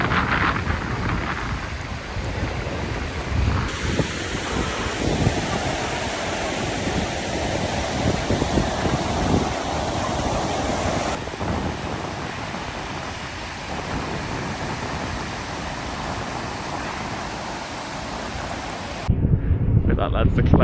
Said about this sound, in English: Really breezy. Very windy.